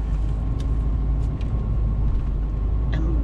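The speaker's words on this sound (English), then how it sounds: "Driving into town for the day." A car drives into town on a hot, humid morning in Savannah, Georgia, its steady engine and road rumble loud and continuous throughout, with a few faint higher clicks and no talking.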